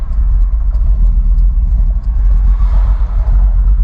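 Dodge Dakota R/T engine idling at a stoplight, a steady loud low rumble with slight fluctuations as the idle sags toward stalling, with no speech over it.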